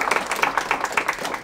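Audience applause after a speaker is introduced at an Accenture Diversity Advisory Forum event, a dense, steady patter of many hands clapping at moderate level through the whole moment, tapering slightly at the end.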